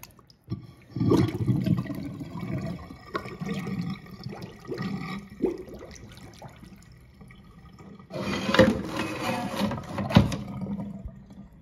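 Water draining from a kitchen sink after the plug is pulled, with gurgling and sloshing at close range in irregular bursts, then a louder rush of water near the end.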